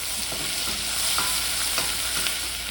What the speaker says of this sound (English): I'm going to stir all that up